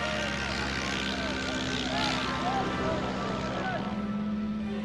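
An early propeller aeroplane flying a circular course, its engine buzzing steadily with a droning hum and a gently wavering pitch as it passes, with a voice speaking over it.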